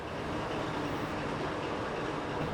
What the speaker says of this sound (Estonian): See rong kuulub siis Portugali raudteele.